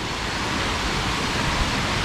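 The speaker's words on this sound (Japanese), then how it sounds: "わっ滝が綺麗じゃん" Mountain waterfall on Kanakuso-dake in summer, heard as a dense, even roar of rushing water, loud and continuous with no talk.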